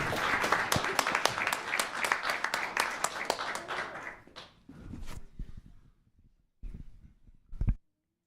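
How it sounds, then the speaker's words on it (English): A crowd claps and applauds loudly for several seconds at a town council meeting, then the clapping thins out into a few scattered claps and dies away. "These girls deserve one more round of applause."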